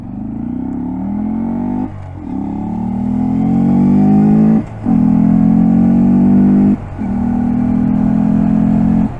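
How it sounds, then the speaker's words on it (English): A Honda Grom motorcycle engine is heard while riding, loud and close, its pitch climbing and then breaking at each of several gear changes. "That beautiful downshifting life just never gets old."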